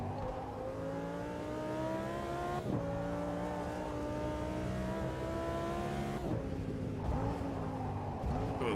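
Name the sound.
race car engine during a lap in Automobilista 2 video game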